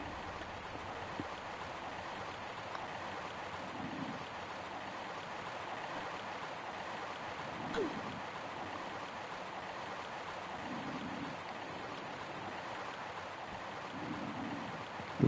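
Steady rushing water from a waterfall in Tomb Raider fills the scene as a continuous, even wash of noise at moderate distance, with no voices.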